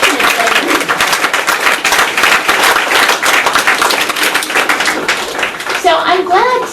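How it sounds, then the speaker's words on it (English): An audience at a talk gives a round of applause, brisk dense clapping at close range that tapers near the end as a voice begins speaking. "Let's give her a round of applause real quick."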